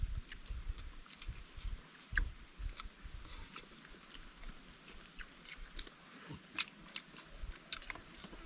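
Someone eats steamed skipjack tuna cooked in banana sheath in Palawan: close, irregular biting and chewing sounds with soft crunches and mouth noises, quiet and intermittent, with no talk.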